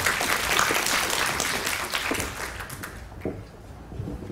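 An audience at a youth working-holiday information session breaks into warm applause welcoming a speaker, dense clapping that thins and fades out toward the end.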